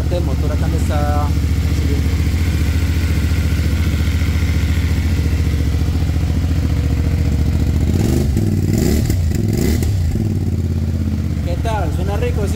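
Close-up 450 MT motorcycle engine idling with a firm, clattery throb, then revved in a couple of quick blips near the middle before settling back to a steady idle.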